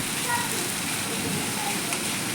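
A sudden, heavy summer downpour after a very hot spell, heard as a steady, dense hiss of rain falling close by that continues evenly throughout.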